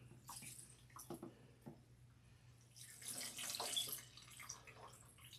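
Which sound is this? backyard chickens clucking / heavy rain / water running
water running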